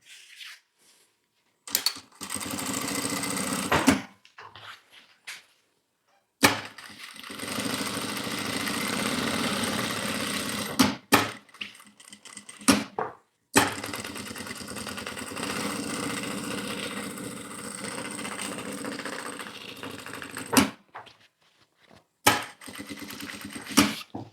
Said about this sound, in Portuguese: Então vamos passar aqui uma costura de segurança